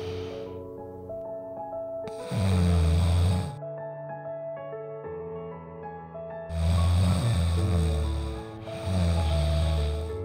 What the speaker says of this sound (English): The world's first smart patch to quiet snoring noise.